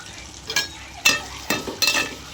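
Onions going into hot oil with fenugreek and curry leaves for a drumstick fenugreek curry, stirred with a spoon: several short scraping stirs and a soft sizzle, close and fairly quiet, with no talking.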